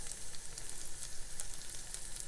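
Asparagus soup with soft vegetables bubbles in a pot after 20 to 25 minutes of boiling, a faint, steady sizzling hiss with small pops and no talking.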